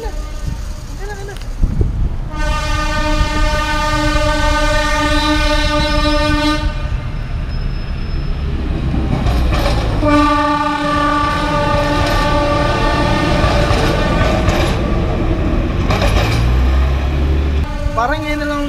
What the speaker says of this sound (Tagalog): Oh, may tren? May tren pa?